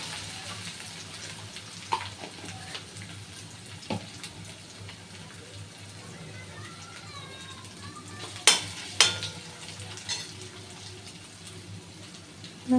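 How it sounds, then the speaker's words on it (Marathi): Onion frying with ground ginger-garlic paste in a pan while being stirred, giving a steady low sizzle with occasional sharper scraping clicks near the end; no talking. "मस्त असा कांदा लालसर झाला की त्याच्यात अद्रक लसूण वाटून घेतलेलं टाकायचं आणि त्यांनी छानपैकी हलवून घ्यायचं."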